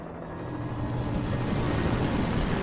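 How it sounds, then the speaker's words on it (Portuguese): Helicopter in the video game Alan Wake Remastered, a dense rotor and engine roar that swells steadily and holds loud throughout, with no speech. "E helicóptero."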